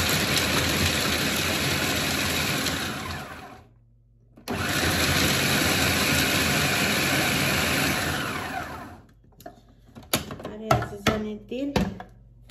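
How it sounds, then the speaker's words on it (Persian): Walnuts whir in a food processor with a steady loud grinding drone that cuts out briefly near four seconds, resumes, then fades into scattered kitchen clatter and knocks at the end. "الان اینجا گردو انداختم در چرخ که ایرم میکسر کنم دیگه"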